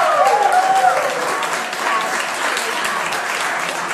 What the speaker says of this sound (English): Desjarlais' remarks prompted strong applause from the crowd